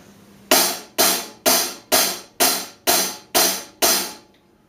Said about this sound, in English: there's my sound choice for hi-hat